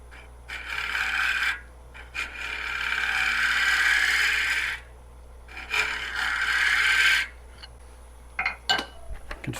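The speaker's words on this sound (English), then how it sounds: "let me see if I can do that with a round carbide." A round carbide tool cuts bocote wood on a lathe while a box is turned, giving close, loud rasping cuts in several sustained passes separated by short pauses, with a few brief scrapes at the end and no talking.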